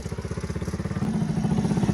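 Motorcycle ridden forward along a Pakistani village lane, its engine putting out a rapid chugging pulse that climbs into a steadier, louder drone partway through; no voices.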